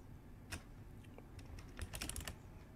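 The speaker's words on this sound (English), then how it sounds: "we will type in the print command" Someone types a Python print command on a computer keyboard: soft, quiet key clicks, scattered at first, then a quicker burst of keystrokes near the end.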